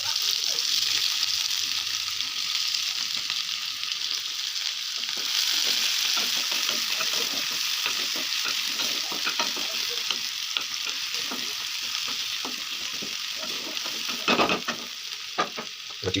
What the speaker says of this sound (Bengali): গার্লিকটা লাল হয়ে গেল, এবার পেঁয়াজটা দিয়ে দিলাম।